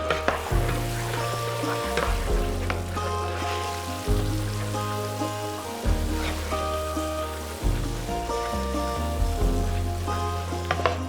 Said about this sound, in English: It's going to sizzle and bubble up a little bit.